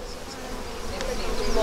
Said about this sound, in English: Yeah, little tiny bees.